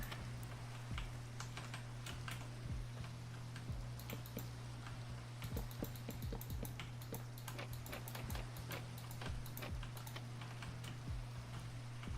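Clicky keystrokes from a computer keyboard tap out in quick, irregular bursts over a steady low hum, close and fairly quiet, with no talking.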